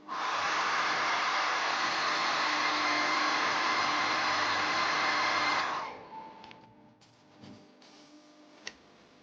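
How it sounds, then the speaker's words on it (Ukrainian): A hair dryer blows loudly and steadily for several seconds heating shoe material, then switches off, leaving faint clicks and handling noises. "я розігрію за допомогою фену"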